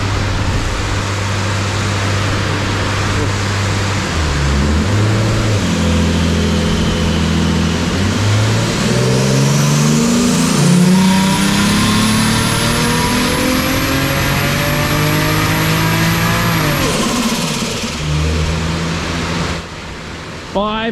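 Single-turbo BMW E46 engine loud and steady on a dyno pull, revving up through the range in rising sweeps with a long high whine building near the top before backing off, a voice briefly heard under it.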